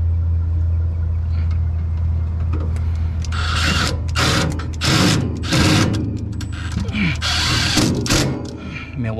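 A Milwaukee power tool driving screws while fitting a Carrier furnace heat exchanger, a steady motor whir with short rising bursts as screws are run in, close and fairly loud.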